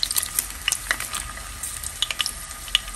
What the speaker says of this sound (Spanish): para que se fríen, con 3 ajos a flama baja, una ramita de canela